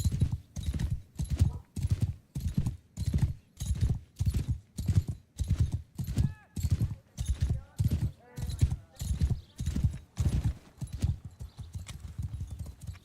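Steady rhythmic clip-clop of horse hooves in the video game Mount & Blade II: Bannerlord, about one beat per second and slightly muffled, continuing throughout with a faint voice briefly in the middle.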